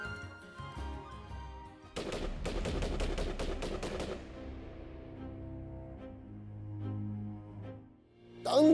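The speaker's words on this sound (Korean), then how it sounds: "멀리서 들려오는 마른 하늘의 날벼락 같은 총소리를 듣게 됩니다" Distant gunfire rings out over a Korean village in 1907 as a sound effect: a rapid two-second volley of sharp shots rolls into a long, fading echo, following a soft tonal musical passage.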